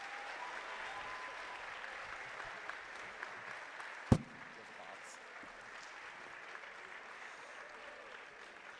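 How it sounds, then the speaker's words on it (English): Faint, steady applause from an audience at a school prize day ceremony, a soft distant wash of clapping with one sharp nearby knock or clap standing out midway. "Please give a round of applause for Dr."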